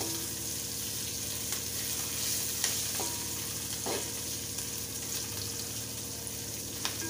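Thin poha chivda being sautéed in a pan, giving a steady close sizzle and frying hiss with occasional stirring scrapes, continuous and with no voices.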